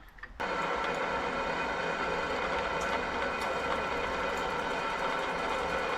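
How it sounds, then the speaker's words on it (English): A power drill fitted with a 5mm bit whirs at a steady, constant pitch after a short quiet start, drilling holes and running without a break, sounding close. "I'm gonna start off with a 5mm drill."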